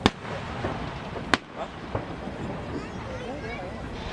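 Fourth of July fireworks explode at Bethpage Ballpark, with a loud sharp bang at the start and another just after one second, then fainter pops, under a steady outdoor rumble and voices.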